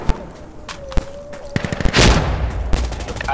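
Gunfire in the Insurgency Sandstorm video game: sharp single shots and a quick volley crack close by, followed by a rushing blast and more scattered reports, loud and alone.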